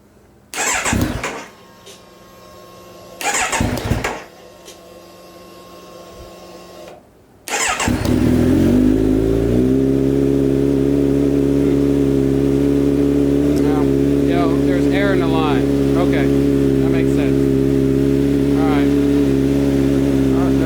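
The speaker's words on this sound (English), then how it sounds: "We're going to start it up just to make sure we don't have a check engine light." A 2017 Kawasaki Z900 motorcycle engine cranks and catches around the midpoint, then settles into a loud, steady idle after a couple of short bursts of noise.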